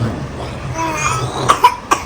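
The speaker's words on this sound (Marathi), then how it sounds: "खोकला येतोय बिचारीला" A few sharp coughs near the end, three short bursts in quick succession after a quieter stretch of faint background murmur.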